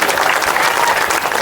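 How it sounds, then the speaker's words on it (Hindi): Loud, dense applause from a crowd, continuous clapping throughout. "एक बार जोरदार तालियां हम सब बहनों और भाइयों के लिए।"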